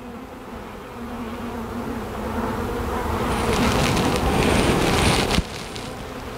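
Honey bees buzz densely around an open hive, a continuous close hum that swells louder midway, with a brief bump from handling near the end and no talk.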